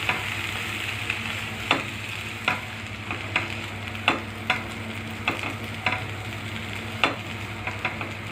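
Okra bhaji stirred in a frying pan, a soft continuous sizzle with a low steady hum, broken by a series of sharp spatula scrapes and taps at irregular intervals, with no talking.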